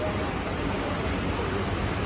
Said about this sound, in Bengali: বৃষ্টি হচ্ছে ভীষণ ঝমঝমে।